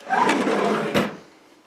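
A kitchen drawer slides open or shut with a short rumbling scrape, followed by a sharper knock about a second later as it stops, close by and alone.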